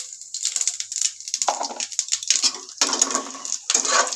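A spatula stirs fried eggs and potatoes in a pan of hot oil with whole cardamom, mace and cumin, giving light metallic scrapes and clinks over a soft, continuous sizzle, close up.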